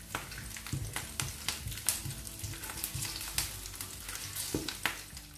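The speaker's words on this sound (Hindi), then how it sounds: "और इसको जब तक मूंगफली थोड़ी सिक जाए तब तक इसको हम थोड़ा हिलाएंगे।" Peanuts and green chillies sizzling in a pan while a spoon stirs them, soft frying crackle with repeated scraping, clacking strokes at an uneven rhythm, fairly quiet and close.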